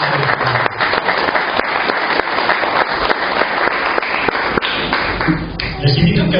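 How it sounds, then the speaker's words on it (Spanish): A church congregation claps in a loud, sustained round of applause at a Spanish-language worship service, dense and continuous for several seconds with scattered sharper claps. "Denle un fuerte aplauso."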